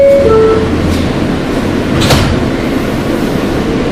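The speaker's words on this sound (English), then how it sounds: "Stand clear of the closing doors," Kawasaki R160B Q train on the New York subway, with a chime, a brief hiss and a sliding door shutting, followed by a steady low rumble inside the car.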